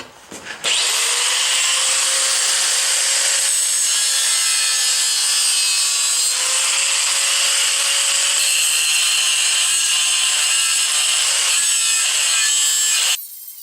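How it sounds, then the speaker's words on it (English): An angle grinder bites steadily into a cast iron transmission casing in a workshop, a loud continuous high-pitched grinding whine holding for about twelve seconds before cutting off abruptly. "alright, let's start grinding."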